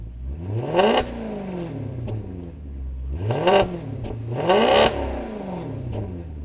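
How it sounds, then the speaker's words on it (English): A Maserati Quattroporte's 4.2-liter V8 revs three times in a row, each blip rising sharply to a loud peak and falling back to a steady idle between, heard up close with no talking. "Let's check out the engine."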